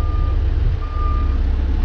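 A logging truck's backup alarm beeps in a steady, loud, continuous tone while the truck reverses at a North Carolina logging site, with low engine rumble underneath and no voices.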